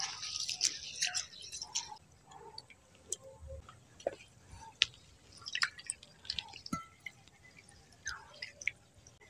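Old parboiled rice being rinsed by hand in water while making chitai pitha, with faint, scattered drips, trickles and small splashes in a quiet kitchen and no talking.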